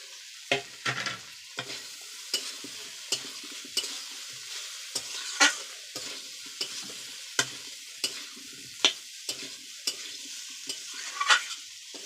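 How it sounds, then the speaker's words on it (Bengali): Pre-fried pointed gourd pieces stirred into sautéed potatoes and soya chunks in a sizzling pan, with a steady run of close spatula scrapes and clacks over a continuous frying hiss, no talking. "এবার কিন্তু আমরা দিয়ে দেবো আগে থেকে ভাজা পটলগুলো।"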